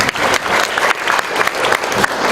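An audience at a lecture hall forum bursts into dense, loud applause, many hands clapping continuously at close range for the whole brief stretch.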